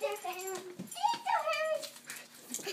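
A dog whimpers and yips in high, wavering whines, fairly close and repeated across the moment, with no talk over it.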